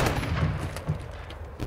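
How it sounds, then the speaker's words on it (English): Gunfire in Call of Duty: Modern Warfare 2 on PC, a dense burst of shots and booms rolling through the game's soundscape, fairly close and loud, with no speech over it. "My gun is way louder than yours."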